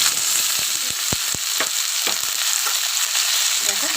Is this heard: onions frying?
yes